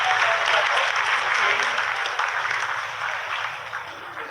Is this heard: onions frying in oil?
no